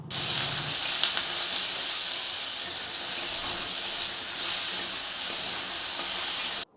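Ridge gourd cooking with turmeric and salt in a pan, just after water is added, giving a loud, steady hiss of steam and sizzling that runs unbroken throughout, with no talking.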